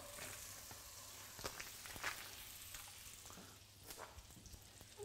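A block of butter melts in a hot pan with a soft, steady sizzle and faint crackles, close and fairly quiet, with no talk over it.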